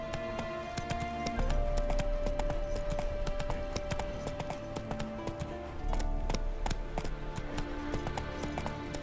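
Roach the horse gallops in The Witcher 3, hooves clip-clopping in a steady, rapid rhythm for the whole stretch while tonal game music plays beneath.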